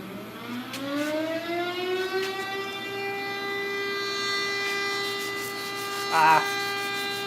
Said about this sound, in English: Yeah, it's a fire whistle.